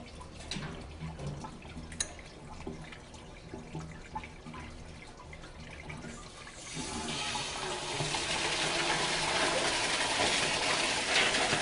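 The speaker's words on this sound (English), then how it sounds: "We're going to open up our flow test valve so we can purge any air in the inlet chamber of the deluge valve." Water gushes through the opened flow test valve of a deluge valve in a Viking double interlock preaction fire sprinkler system, starting with scattered splashes and drips, then swelling into a loud, steady rushing flow.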